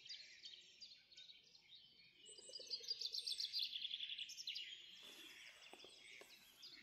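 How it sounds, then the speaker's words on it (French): Birds singing outdoors in open countryside, several chirps and trills overlapping, faint and somewhat distant over a soft background hum. "j'entends aussi les oiseaux qui sont là."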